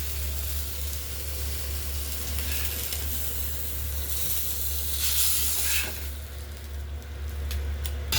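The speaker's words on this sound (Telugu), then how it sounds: "చేపలు లైట్గా వేపాలి" Fish frying lightly in hot oil in a pan for a fish curry lunch, a steady close sizzle and hiss with brief crackling bursts, no voices.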